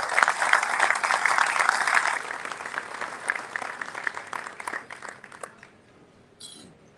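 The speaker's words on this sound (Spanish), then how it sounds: "Un aplauso fuerte, por favor" Strong applause from a crowd at an anniversary celebration of a Navistar plant in Escobedo, loud at first, then thinning out into scattered claps before dying away.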